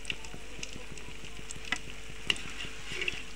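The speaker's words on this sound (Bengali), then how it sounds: "আমি সবগুলো পাকোড়া এইভাবে করে ভেজে নিব।" Cauliflower pakoras fry in hot oil with a soft, steady sizzle and bubbling, broken by a few faint clicks and taps, with no talking.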